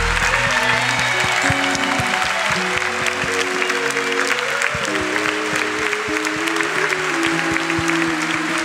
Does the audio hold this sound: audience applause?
yes